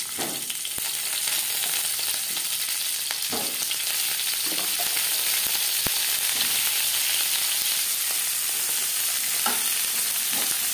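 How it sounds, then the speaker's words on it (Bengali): Cauliflower fries in hot mustard oil, a loud continuous sizzle close by with occasional sharp pops and stirring clicks throughout. "সবার প্রথমে আমি সবজি ভেজে নেব। দিয়ে দিয়েছি সরষের তেল। এবার দিয়ে দেব ফুলকপি।"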